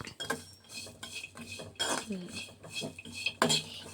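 A spoon stirs and scrapes through ingredients in a metal pot while Coorg-style egg curry is made, giving repeated clinks and scraping strokes in an irregular rhythm, close and moderately quiet.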